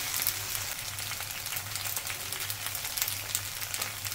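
Pasta with paprika and mozzarella cheese being mixed in a hot pan, a continuous close sizzle with soft irregular stirring scrapes and a low steady hum underneath, no talking.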